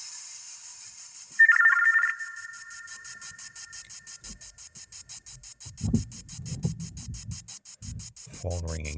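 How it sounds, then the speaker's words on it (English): During a ghost box session in a cemetery, an electronic phone-like ringing tone sounds briefly, over a fast, steady, cricket-like pulsing chirp, followed by choppy bursts of radio-scan noise and fragments. "Phone ringing sounds."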